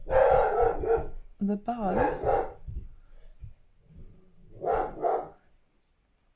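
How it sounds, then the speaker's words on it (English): A dog gives a couple of barks close by, mixed in with someone talking over it. "Excuse my dog."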